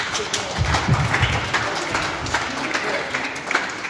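Scattered applause and clapping rise from a crowd at an amateur MMA fight, uneven and moderately loud with a crowd murmur beneath and bursts of talk mixed in.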